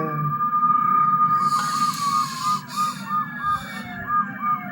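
Video game police siren wailing in a repeated up-and-down pattern during a chase, loud and close, with engine rumble and a brief burst of noise beneath it.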